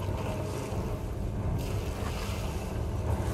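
Sloshing water and ocean wash around a wooden sailing ship taking on water in the Sea of Thieves game, a continuous loud surge with wind noise and no clear voices.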